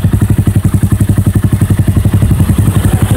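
A Honda MSX 125 motorcycle with an Ixil megaphone exhaust and dB killer fitted idles up close with a steady, muffled, rapid thumping exhaust beat, even and unbroken.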